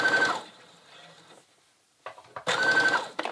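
A home sewing machine running in two short bursts with a quiet pause between them, close and loud, its stitching whir sounding uneven and off.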